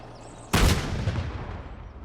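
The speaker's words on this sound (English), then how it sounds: "if we launch a random missile" Simulated missile launch from a game audio HDR demo: a sudden loud boom-like blast that breaks over a quiet background, then a long rumbling roar that slowly fades.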